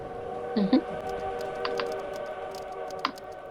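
Game train ambience from the puzzle game Tick Tock, a steady layered tonal hum like a running train with a couple of short mechanical clicks and a brief squeaky tone near the start.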